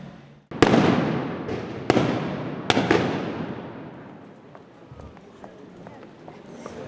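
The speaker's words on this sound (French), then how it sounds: "C'est le canon d'une réplique de l'époque 1602, qui est un canon qui tire" A replica 1602 cannon firing black powder at the Fête de l'Escalade in Geneva, with one huge booming blast followed by two more sharp reports, each leaving a long rolling echo that fades into crowd murmur.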